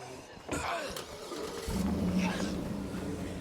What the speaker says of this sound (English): it feels like the engine starts up faster on this vehicle and you can just kind of get up and go sooner than other vehicles